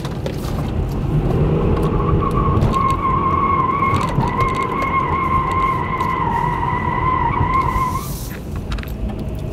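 Front-wheel-drive Nissan Juke, traction control off, understeering with tires skidding: a loud, sustained, wavering squeal that lasts several seconds over steady engine and road roar, then cuts off.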